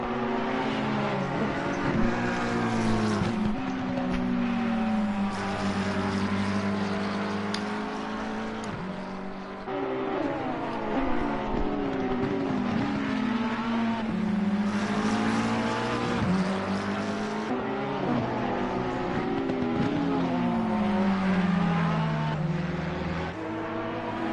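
Ferrari and McLaren race cars in a racing video game at the Hungaroring, engines droning continuously with rising and falling pitch as several cars battle closely, with gear shifts and overlapping engine notes throughout.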